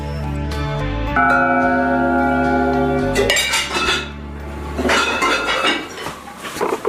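Improvised instruments made from pots and other metal objects ring out with sustained, bell-like metallic tones, then give way to clanging strikes and rattling clatter, loud and close.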